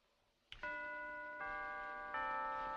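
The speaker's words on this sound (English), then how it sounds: "We can't have any bells in this house." Bells ring out with a sharp initial strike, then sustained tones that are struck again twice in a slow sequence, fairly faint and with nothing else heard over them.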